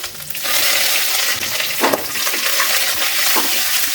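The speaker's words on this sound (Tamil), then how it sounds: "எண்ணெயில் இந்த தண்டு வதங்கணும்" Steady broadband sizzle of chopped banana stem frying in hot oil, continuous and close, with a couple of brief stirring scrapes partway through.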